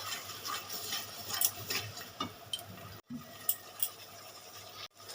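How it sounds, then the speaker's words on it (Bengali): Mustard paste being stirred in a cooking pan, with soft scraping and stirring scuffs punctuated by a few light metallic ticks and clinks, quiet and close. "সর্ষে বাটাটা একটু নেড়ে চেড়ে নিলাম"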